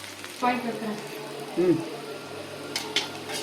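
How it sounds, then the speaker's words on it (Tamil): Steady frying sizzle of green chili and other ingredients in a pan with occasional stirring clatter; a brief low voice-like sound partway through. "இது கூட ஒரு பச்சை மிளகாய் எல்லாத்தையும் போட்டு வறுக்கணும்"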